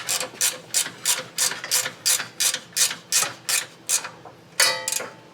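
A ratchet tightens safety Torx bolts on a catalytic converter shield on a third-generation Toyota Tacoma, making about a dozen crisp, evenly spaced clicking strokes up close before a final longer pull.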